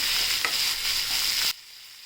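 Onions and mustard seeds sizzle loudly in hot oil in a pan for dahi poha, a steady close hiss with a faint stir, then the sizzle drops away abruptly to near quiet.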